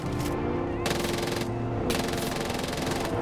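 Rapid bursts of gunfire in the video game Far Cry 5, loud sustained automatic shots in a few clustered volleys filling the whole moment with no gaps.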